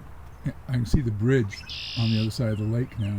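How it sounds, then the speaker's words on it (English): A red-winged blackbird at a lakeside trail gives a few sharp, atonal chirps and a high buzzy trill in short bursts, heard close and mixed in with people talking. "That is a red-winged blackbird."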